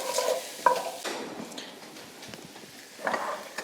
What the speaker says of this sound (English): I'm gonna add my garlic, let that saute for a minute